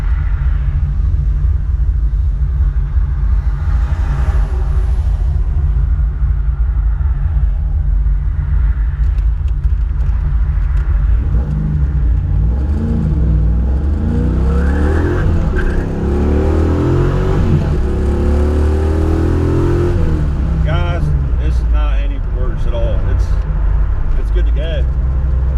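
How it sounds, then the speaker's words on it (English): Car with a swapped LT1 engine at wide open throttle on a public road, a loud deep rumble climbing through the revs, with talk over it. "I'm going to go ahead and do some heavier throttle, see if it runs any different under some heavy, wide open throttle acceleration"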